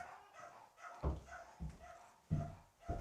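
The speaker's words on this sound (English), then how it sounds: "They're literally barking so much." Dogs bark in a building, four sharp, faint barks spaced irregularly, heard from some distance in a quiet interior.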